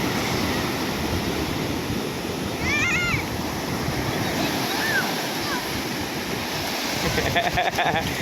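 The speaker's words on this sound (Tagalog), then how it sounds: "Oh, there's a bigger waves!" Ocean waves surge and break on a shore in a steady, loud wash of surf with wind noise on the microphone, while a voice and a couple of brief calls rise above it.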